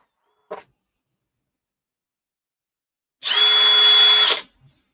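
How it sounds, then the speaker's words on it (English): A short click, then a power drill whines at high speed for about a second, drilling an eighth-inch hole, loud and close, before spinning down. "we're gonna drill a hole in it"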